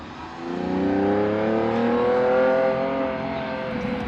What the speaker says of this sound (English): the Revuelto was leaving